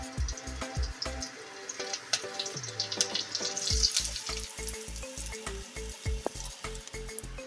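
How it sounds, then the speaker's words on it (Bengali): Chopped ginger and green chilli sizzling in oil for chilli paneer, a constant close fry broken by steady stirring strokes, with a brief pause in the middle before the brisk rhythm resumes. "এবার আমি আদা আর কাঁচা লঙ্কা কুচিটা দিয়ে দেবো।"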